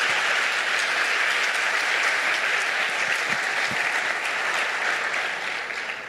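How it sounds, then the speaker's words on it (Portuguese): A church congregation applauds in a dense, sustained wash of clapping that continues for several seconds and eases off slightly at the end. "dê uma salva de palmas ao Senhor por isso"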